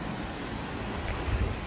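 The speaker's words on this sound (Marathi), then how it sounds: "तिकडे बघा लाटा कशा फेसाळत आहेत" Sea waves foam and crash against the stone walls of Sindhudurg sea fort on the Konkan coast, a steady wash of surf mixed with wind, with a heavier surge toward the end.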